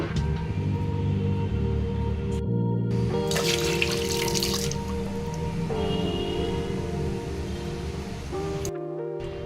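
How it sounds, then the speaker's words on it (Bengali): Water pours steadily into a rice cooker for several seconds, a continuous close splashing stream that briefly cuts out and then resumes. "এবারে পরিমাণ মতো জল দিয়ে নেব আর একটু জল দেব"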